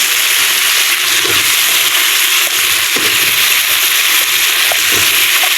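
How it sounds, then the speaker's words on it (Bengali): Chopped bottle gourd goes into a pan of sautéed fish and sizzles loudly and steadily up close, with a dense hiss of frying and faint scrapes of stirring. "কষানো হয়ে গেছে লাউ দিয়ে দিলাম"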